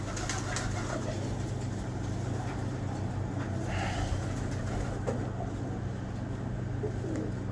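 Pigeons coo softly against a steady low hum and dense background noise, the calls hard to pick out and blended with faint chirps.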